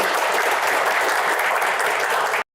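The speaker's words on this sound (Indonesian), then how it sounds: "tepuk tangan untuk Pak Burhanuddin" A studio audience on an Indonesian TV talk show gives Pak Burhanuddin dense, loud, steady applause that cuts off abruptly after a couple of seconds.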